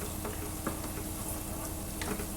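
Chopped onions and peppers sizzle in a hot pan for Turkish menemen, a steady close crackling fry with a few light stirring ticks and no voice over it.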